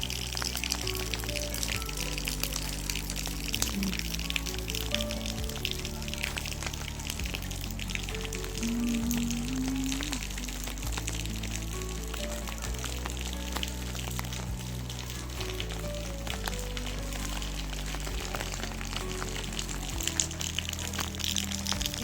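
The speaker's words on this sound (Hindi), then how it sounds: "बादलों के बीच में पीछे से बादल, ये देखिए, पीछे से बादल आ रहे हैं उड़ के और हल्की बारिश हो रही है।" Light rain falls in a mountain setting amid passing clouds, a steady patter and trickle lasting throughout with a faint low hum underneath and no clear voices.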